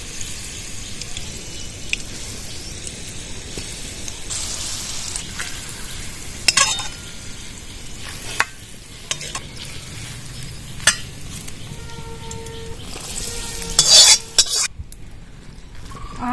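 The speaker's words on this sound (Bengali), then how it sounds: "মশলাদার আম মাখানোর মধ্যে আমি এই তেল ভাজাটা দিয়ে দিচ্ছি।" Hot fried oil is poured into a spiced mashed-mango mix and stirred, giving a continuous sizzle with scraping and stirring noises and a few sharp clinks of utensils near the end.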